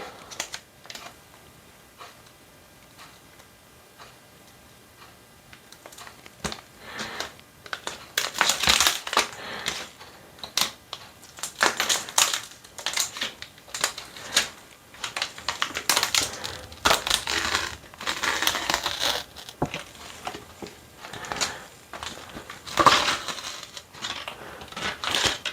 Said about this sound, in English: Peel that off.